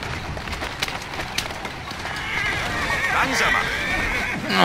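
Horse-drawn carriage in Assassin's Creed Syndicate, with horses neighing and whinnying and hooves clip-clopping over a steady rolling rumble that grows louder toward the end, while someone talks over it.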